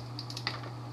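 Knife cutting the ends off celery stalks, heard as a few faint, quick crisp clicks spaced through about a second over a steady low hum.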